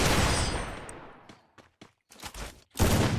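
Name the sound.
Desert Eagle gunfire in Free Fire video game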